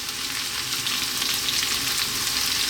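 Onion and vegetables for a vegetable curry fry in a pan with a steady, dense, close sizzle that holds at an even level throughout, with no voices.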